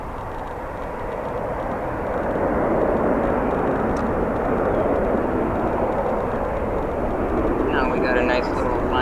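A SkyWest United Airlines Embraer 175 arriving at O'Hare gives a broad, steady jet roar that swells and holds loud, with faint higher chirps near the end.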